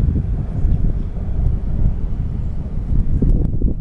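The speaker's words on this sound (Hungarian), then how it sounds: "Nagyon hideg szél van." Strong, cold wind of about 100 km/h ahead of a storm roars and buffets the microphone in a loud, steady low rumble with no voices.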